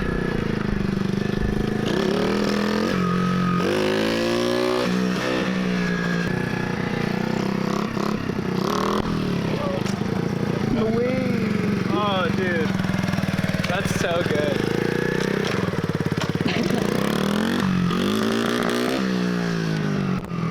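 A small, torquey dirt bike, rescued after being abandoned, revs hard close by. Its engine pitch sweeps up and down in repeated bursts with a rough, buzzy tone, and excited voices come through at times.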